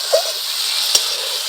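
Spice masala frying and being stirred in oil for a Bengali cauliflower curry, a steady hiss of sizzling throughout with a brief scrape of the spoon near the start and another short clink midway.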